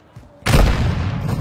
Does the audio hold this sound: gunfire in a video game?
yes